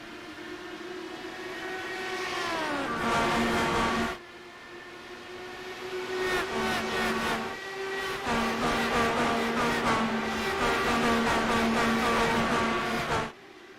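IndyCars roaring off the start at Indianapolis in a racing game, a loud steady engine drone with rising and shifting pitch as the cars accelerate, cutting off briefly before the pack surges again.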